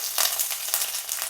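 Mustard seeds, curry leaves and garlic sizzle in hot oil while a vegetable curry is cooked. The frying makes a steady bright crackle with small pops, close and fairly quiet.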